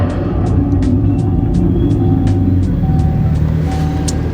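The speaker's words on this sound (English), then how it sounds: "there is a speaker in the back of the vehicle that lets out that V8 noise" Dodge Charger EV at a cold start, its rear speaker producing a simulated V8 engine note: a steady, loud low rumble throughout with faint regular ticking above, no talking.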